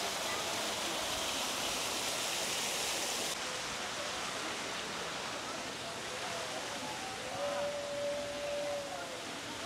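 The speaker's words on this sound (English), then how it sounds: "This is the fountain they have at the end." A public water fountain in Old San Juan splashes as a steady, continuous rush of falling water, moderately close, with a faint tone appearing briefly and no clear talk.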